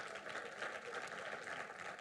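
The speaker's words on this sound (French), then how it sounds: "Acclame Jésus." A church congregation applauds and claps in praise during a French-language sermon, a steady, moderately distant wash of clapping lasting a couple of seconds.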